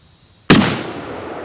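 A single sharp, loud report from a Rossi 45-70 lever-action rifle firing Hornady LEVERevolution ammunition, rising abruptly from quiet and then decaying over about a second.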